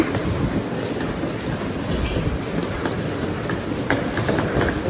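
A train rolls in at Vasco da Gama railway station with a continuous rumble and rhythmic wheel clatter, close and fairly loud, with occasional metallic clicks and squeals over the steady roar.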